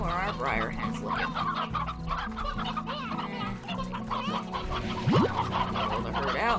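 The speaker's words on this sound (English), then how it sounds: "How are our briar hens looking?" Briar hens clucking in the video game Slime Rancher, a busy layer of repeated clucks and chicken calls over steady game music and ambience, with a rising swoop near the end.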